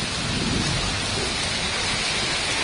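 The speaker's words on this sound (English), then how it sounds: "Fuck the rain." Heavy rain pours steadily during a flood on Bukit Timah Road, a dense, close, unbroken hiss of water with no voices over it.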